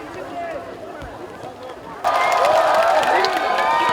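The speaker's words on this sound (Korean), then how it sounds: "이렇게 큰 환호를 보내주시니까" A crowd at a rainy outdoor summer music festival concert in Ulsan cheers and shouts loudly, rising abruptly halfway through from a quieter murmur of voices and noise.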